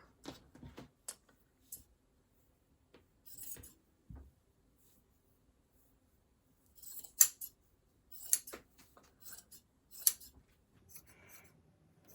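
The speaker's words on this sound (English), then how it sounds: "So I'm going to cut the back panel out of this sweater." Scissors cut the back panel out of a sweater in quiet, close snips and rustles, scattered in short clusters with silent gaps between them.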